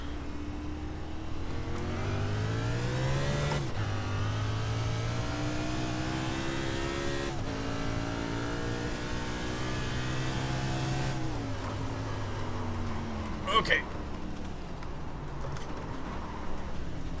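A stock car engine in a racing game laps Imola, droning steadily and revving up through the gears with distinct shifts, a short sharp click near the end, no talking over it.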